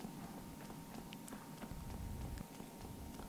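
Horse hooves clip-clopping in Shadow of the Colossus, a steady run of soft, quick hoofbeats at a trot or canter, moderately faint and continuous across the moment.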